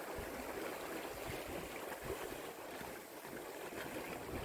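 Sea waves wash steadily against a sailing boat on the Mediterranean, a soft continuous hiss with light wind blowing through, fairly faint and with no voices.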